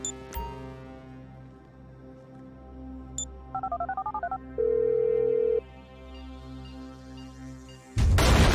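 A phone being dialed in Grand Theft Auto 5 gives a quick run of about seven keypad tones, then one longer steady tone. A low in-game music drone sits underneath, and a loud burst of noise hits at the end.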